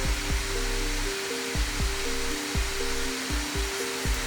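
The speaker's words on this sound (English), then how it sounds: "And like you can hear it, this is the max fan." Graphics card cooling fan running at maximum speed during a GPU overclocking test, a loud, steady broadband whoosh that continues without pause, with low tonal hum bands and faint periodic pulsing beneath it.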